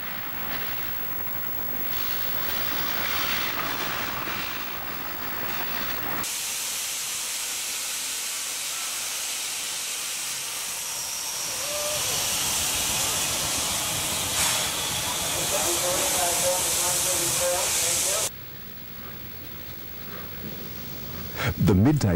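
Steam locomotive 3664 hauling the Midday Flyer out of Newcastle in the mid-1960s, with sustained loud hissing of steam and rolling rail noise that builds, then drops abruptly near the end.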